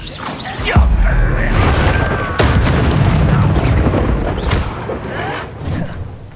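Depulso force spell blasts in a Harry Potter video game: several loud booming impacts with crashing bursts over a busy combat soundscape.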